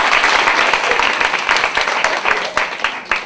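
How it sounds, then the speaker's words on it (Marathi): Loud, sustained clapping from a crowd for the girl who won a pyramid-building game at a Nagpanchami festival event, a few louder claps standing out near the end. "जोरदार टाळ्या होत्या तिच्यासाठी"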